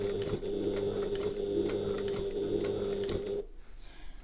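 A sewing machine runs a steady stitch along a line on a handbag, its rapid mechanical whir continuous and close for about three seconds before stopping abruptly into quiet.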